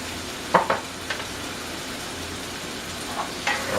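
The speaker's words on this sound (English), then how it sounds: "Once you get that frying up here a little bit" Tomatoes fry in olive oil with crushed red pepper, a steady close sizzle with a few brief louder pops and stirs breaking through now and then.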